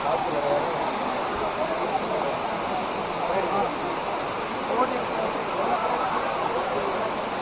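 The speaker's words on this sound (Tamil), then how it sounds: "ஒரு அழகான ஒரு சின்னோண்டு அருவி தான் கிளியூர் அருவி" The small Kiliyur waterfall in Yercaud pours in a steady, even rush of falling water, close and constant, with people talking over it.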